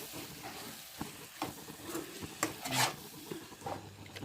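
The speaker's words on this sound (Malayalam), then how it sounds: "ഇനി അതിലേക്ക് അരിഞ്ഞ് വെച്ചിരിക്കുന്ന തക്കാളിപ്പഴം ഇട്ട്" Chopped tomatoes being stirred into hot oil and masala in a pan for chicken curry, giving soft scraping and rubbing strokes with a faint sizzle, close and alone without talk.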